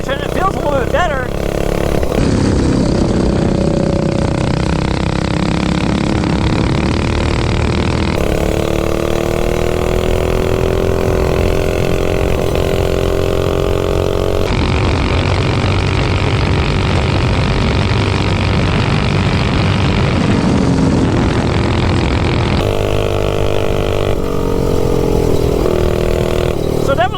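A motorbike fitted with a budget stage 3 engine runs loud and steady throughout, its tone rising and falling with throttle changes over a rough, continuous drone.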